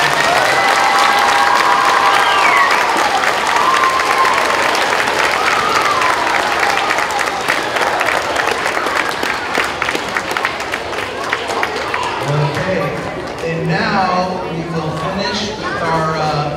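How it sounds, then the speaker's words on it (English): An audience at a school event bursts into loud applause and cheering, a dense wash of clapping with whoops. It thins toward the end as voices and chatter rise. "let's give her a big round of applause"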